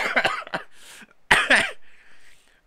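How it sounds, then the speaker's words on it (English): Two bursts of harsh coughing, close and fairly loud, each a quick cluster of rough barks followed by a short wheezy breath. "Stop making me cough, bro."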